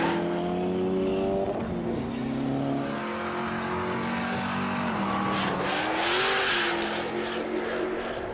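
Race cars at the Toronto Motorsports Park roar past with rising and falling engine pitch and a brief squeal of tires, loud and close.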